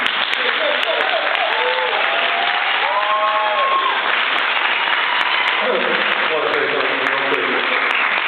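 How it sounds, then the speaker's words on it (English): Crowd at a b-boy breakdancing jam applauds, a loud continuous wash of clapping and cheering with a few whoops rising above it, sounding slightly muffled and compressed. "So a round of applause for Larry"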